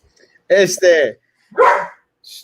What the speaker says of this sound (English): My dog wants to jump in too.